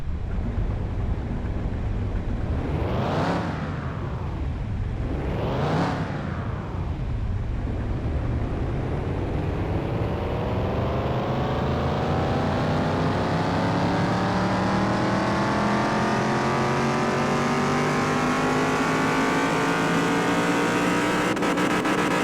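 In Car Mechanic Simulator 2021, a car engine on the dyno blips twice sharply, then winds up in one long, steady climb through the rev range, loud and close throughout.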